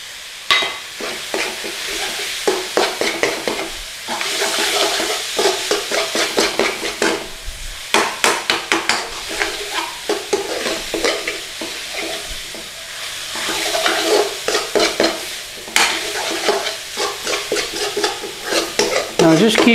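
Paprika, chili powder, cumin, fennel and curry powder fry loudly in a pan for chicken rogan josh. Steady sizzling runs under repeated, rhythmic scraping as the spices are stirred, with no talking.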